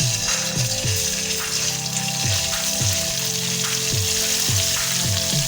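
Ginger-garlic paste frying in hot oil gives a close, bright sizzle, with rhythmic scraping strokes of a spoon stirring through the pan at regular intervals.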